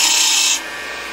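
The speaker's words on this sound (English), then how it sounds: "we're going to come in with our skew and we're going to try to mark" A skew chisel scrapes against spinning wood on a lathe while marking a diameter on an acorn turning, giving a loud, steady raspy rub for about half a second before it drops to a quieter hiss.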